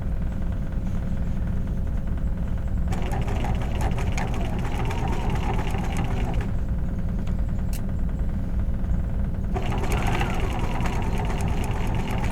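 A sewing machine stitches a vest facing in steady mechanical bursts, pausing and restarting several times with a constant low hum beneath.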